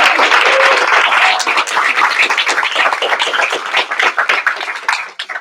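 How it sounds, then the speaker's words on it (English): A room full of people claps loudly for several seconds, the applause thinning into scattered claps at the end. "A round of applause for Lika."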